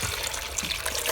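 Water pouring into a Power Pressure Cooker XL pot for minestrone soup, a steady close splashing stream that runs without a break and with no talk.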